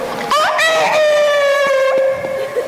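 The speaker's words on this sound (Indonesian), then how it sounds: "Pagi-pagi ada suara ayam." A rooster crows once in a long, drawn-out harmonic call that rises and then holds steady, loud and fairly close, with faint background noise and no talk.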